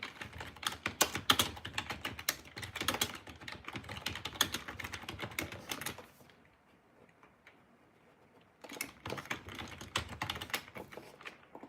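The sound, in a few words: typing on a keyboard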